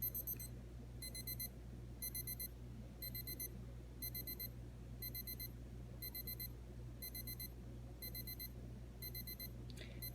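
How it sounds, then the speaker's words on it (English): A digital timer alarm beeps in repeated quick bursts, a short pause between each group, fairly faint over a low steady hum. "I'll show you what the timer sound is like."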